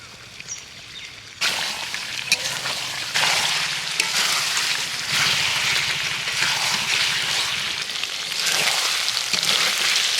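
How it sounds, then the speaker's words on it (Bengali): Chicken pieces and fried potatoes sizzle and crackle steadily in oil in a pan for a chicken curry, a dense close frying hiss that swells louder after a quiet start, with occasional stirring clinks and no talk. "মাংস আলু দিয়ে ভালো করে কষিয়ে নিলাম সুন্দর তেল ছেড়ে গেছে"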